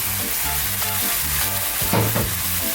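Prawn noodles stir-fry in a pan over high heat, with a loud, steady sizzle throughout and bursts of tossing and scraping, over a faint repeating musical backing.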